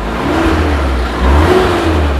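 Engine of a 2016 Suzuki Carry pickup being revved, a steady close idle with two rising surges of throttle, the second one stronger, with no talk over it.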